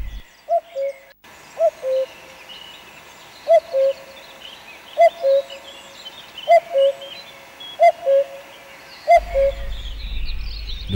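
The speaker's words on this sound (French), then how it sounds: "où il a séjourné tout l'hiver, le coucou entame la saison des amours." Common cuckoo singing in spring in the Vosges, its two-note call repeated about eight times at steady intervals, clear and fairly close above quiet ambient noise, with a low rumble entering at the end.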